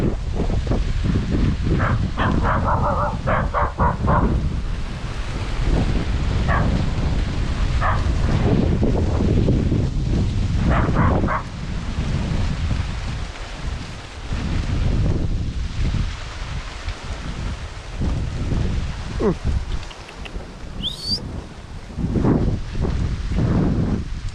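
Strong monsoon wind roars steadily across the microphone in a cornfield, gusting and buffeting throughout with no break.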